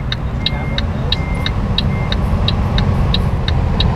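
A loud, steady engine drone of a Skoda-like car in Euro Truck Simulator 2 multiplayer fills the scene, with a faint, regular ticking repeating throughout.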